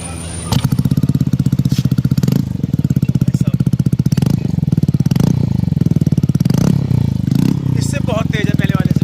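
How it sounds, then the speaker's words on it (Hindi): A Yamaha Aerox 155 scooter fitted with a Yoshimura exhaust starts and idles with a loud, rapid, even pulsing beat, rising briefly with throttle blips, while someone talks over it. "ये गाइस योशीमुरा, इसका भी साउंड सुनते हैं, बहुत डिसेंट साउंड होगा इसका।"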